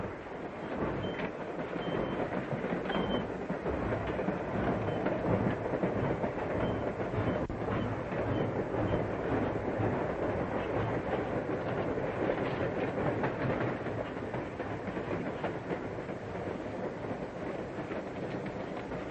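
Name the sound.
train running on rails, clickety-clack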